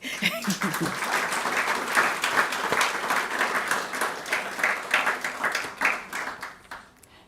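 An awards-ceremony audience at the UMP 2025 Excellence Awards breaks into sustained, dense applause, clapping rising and swelling in waves for several seconds with a hint of laughter and chatter at the start.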